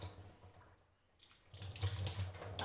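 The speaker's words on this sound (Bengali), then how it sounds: "একটু হাতটা ধুচ্ছি আমি" Hands are rinsed under a running kitchen tap: after a quiet start, a soft steady splash of flowing water rises and continues at moderate volume.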